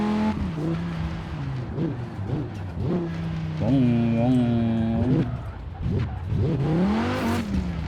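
A car engine in the video game Forza Horizon 4 revs up and down repeatedly, rising and falling in pitch, with a brief tire squeal near the end; the car is the Cyberpunk 2077 Quadra.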